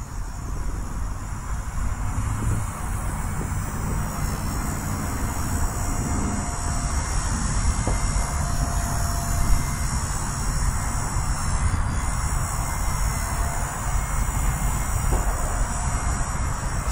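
A Blade Nano S3 small RC helicopter hovers nearby, giving a steady high whine and buzzing rotor hum with slight fluttering vibration throughout.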